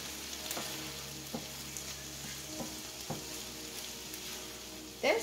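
Sweet pepper fries in a pan with a soft, steady sizzle, punctuated by a few light clicks and stirring knocks, fairly faint and without talk.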